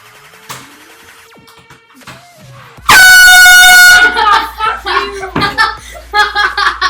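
A prank air horn blares once, a loud, piercing blast lasting about a second after quiet chatter, followed immediately by laughter and excited talking.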